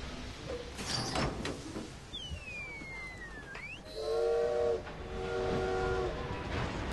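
A steam train in Assassin's Creed Syndicate whistles in two sustained blasts amid rumbling, hissing rail noise, with a sliding, swooping whistle-like squeal beforehand, loud and close, no talk.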